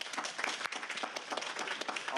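Applause at a Pasadena council meeting for animal shelter donors, a brief burst of dense clapping from a small room crowd, steady and fairly close.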